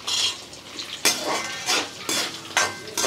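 Coriander, curry leaves, dried chillies and peanuts fry in a tempering pan, with a steady sizzle broken by repeated bursts of stirring and scraping from a metal spoon.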